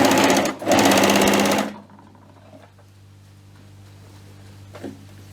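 An overlocker serger stitching fabric runs loud and fast for under two seconds, then stops, leaving a quiet room hum with a few faint clicks of the machine.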